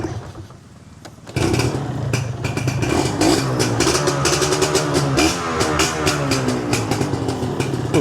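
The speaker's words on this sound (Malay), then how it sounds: "Kita panaskan enjin dulu." A freshly washed motorcycle engine starts after a short quiet pause, then runs loud and steady at a rough idle while warming up, with a slight rise in revs.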